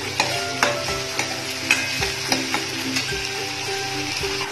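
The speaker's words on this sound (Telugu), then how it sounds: "బ్రౌన్ కలర్లో వేగేదాకా వేయించుకుని ఆనియన్స్ త్వరగా వేగాలంటే కొద్దిగా సాల్ట్ వేసుకుంటే తొందరగా వేగుతాయి" Onions frying in a pan with a little salt until golden brown, a steady loud sizzle broken by repeated scraping stirs of a spatula, no voices.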